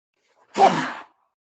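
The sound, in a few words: sneeze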